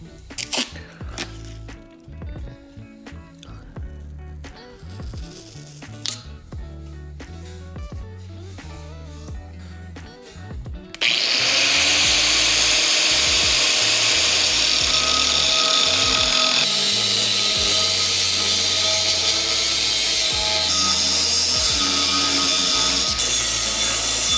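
A 4.5-inch angle grinder cuts steel channel iron for an excavator tree shear, its loud continuous whine and grinding rasp starting abruptly midway and running steadily up close after a stretch of clattering workshop handling.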